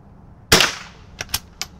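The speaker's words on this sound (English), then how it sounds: "That's a great sound when you're shooting steel" A single sharp .22 single-shot rifle report cracks close by, followed moments later by three quick metallic pings as the round strikes a steel target.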